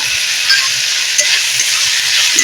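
Leafy greens stirred and fried in hot oil in a home kitchen, a loud, dense, even hiss of sizzling with faint soft stirring taps underneath, nothing spoken.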